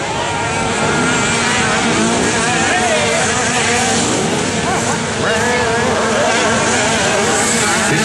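Youth motocross dirt bikes in a senior 6 to 8-year-old 50cc class race around a track, a dense, continuous buzz of small engines at steady loudness throughout, with an announcer's voice over the top.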